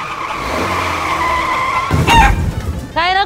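A car skids on a road with chickens in its path during a driving test, a rising engine drone giving way to a loud tire skid, then sharp squawking calls at the end, with voices in the background.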